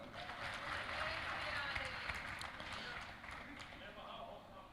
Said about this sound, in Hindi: उसके लिए भी जोरदार तालियां।